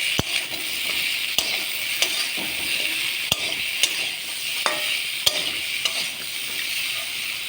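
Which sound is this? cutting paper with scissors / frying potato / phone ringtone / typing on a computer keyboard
frying potato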